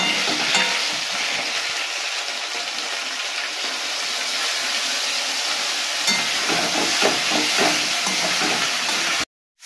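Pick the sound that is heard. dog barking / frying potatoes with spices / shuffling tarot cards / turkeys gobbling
frying potatoes with spices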